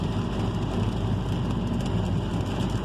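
A heavy rainstorm beats down on a car crossing the Sunshine Skyway Bridge, a dense roar of rain and road rumble that holds steady without pause or voices.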